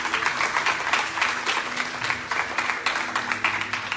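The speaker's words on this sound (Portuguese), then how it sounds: "Você pode aplaudir o Senhor por isso?" Congregation in a church clapping and applauding together, a dense, steady wash of many hands that holds loud throughout with no talk over it.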